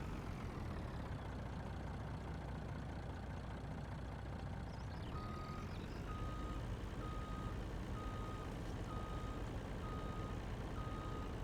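A truck backing a trailer in the video game Farming Simulator 19, with an engine idling steadily and a regular reversing beeper starting partway through, repeating evenly at a moderate level over the constant engine hum.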